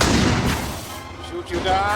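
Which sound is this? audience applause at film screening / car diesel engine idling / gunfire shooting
gunfire shooting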